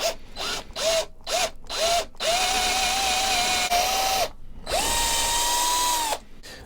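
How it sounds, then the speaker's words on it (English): Power drill boring a pilot hole straight through a guitar body, a series of short revving bursts followed by two longer sustained whirring runs, close and loud. "stick a pilot hole right the way through the body"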